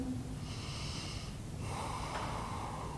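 Deep, slow breaths drawn in and pushed out during a beginner yoga session, heard close and fairly quiet, with two long airy exhalations and no speech.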